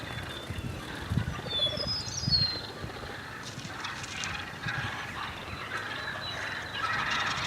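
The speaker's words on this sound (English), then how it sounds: "Oh my God, they're all gobblers." Wild turkey toms in Kansas gobble in the distance, a scatter of faint, rough calls over outdoor background noise, with no talking.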